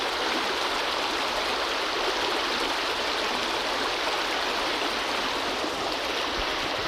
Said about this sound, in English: The river's moving much faster today.